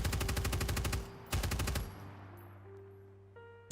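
Video game gunfire as ammo is dumped: two rapid automatic bursts, the first about a second long and the second shorter, each ending in a ringing tail and a metallic click.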